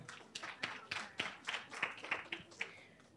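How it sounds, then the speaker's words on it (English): A group at a parenting workshop claps in a loose, uneven rhythm of about a dozen quick claps, fairly quiet and close, with no talking over it. "Clap for yourselves."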